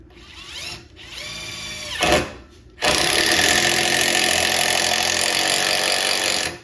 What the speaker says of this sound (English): So let's give the impact a try.